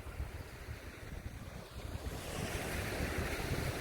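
Surf breaks on West Bay Beach near the pier, a steady wash of waves mixed with gusting wind buffeting the microphone, rising slightly louder toward the end.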